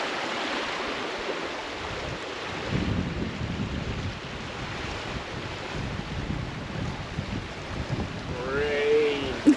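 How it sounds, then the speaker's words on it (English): Wind gusting hard against the microphone during an approaching storm, with a broad rushing roar that swells and eases and no clear raindrop patter. "Rain. We got a gnarly cloud coming in over here."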